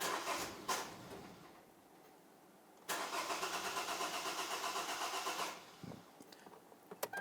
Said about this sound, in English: We're now going to go ahead and start up the vehicle, and we're going to let that fuel system purge of any fuel that is in that line.